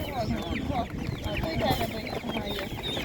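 Several chicks and chickens at an animal market cluck and chirp continuously nearby, a busy overlapping chorus of short calls.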